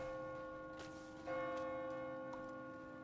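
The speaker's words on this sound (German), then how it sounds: "Und jetzt gehen wir mal dahin, wo die Glocken läuten." Church bells ring in the video game Diablo IV, sustained metallic tones with several soft strikes spaced through the clip, heard at moderate distance over faint background ambience.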